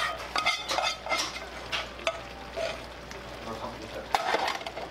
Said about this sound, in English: I'm going to add this in, I'm going to stir this all up